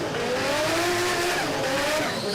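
A drag racing car rolls off the throttle at speed, a loud, continuous engine drone with a gliding pitch that eases slightly as the run winds down, heard close and alone.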